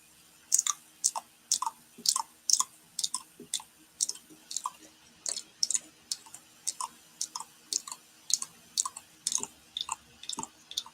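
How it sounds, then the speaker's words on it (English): Wet, smacking mouth sounds repeat in a steady rhythm, close and clear, with short clicky bursts and no talking. "Wet mouth sound."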